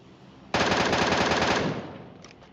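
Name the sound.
gunfire from a video game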